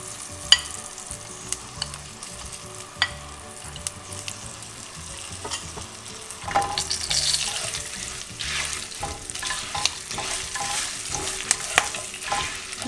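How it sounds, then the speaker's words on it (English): Curry leaves splutter in hot oil for Maharashtrian palak sabzi, giving a steady soft sizzle marked by sharp isolated pops that grow denser and louder toward the end. "I'll wait till the curry leaves nicely splutter"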